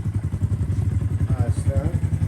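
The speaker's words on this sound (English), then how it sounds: "Yoshi sounds like a real dirt bike" Honda Grom motorcycle fitted with a Yoshimura exhaust, running close by with a rapid, rhythmic low thumping idle and light revs, while someone talks over it.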